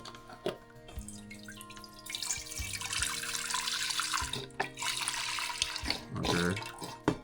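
Water runs steadily from a kitchen tap while preparing turkey backs, a continuous close splashing rush with a few clunks and knocks of pots and dishes around it, no talking.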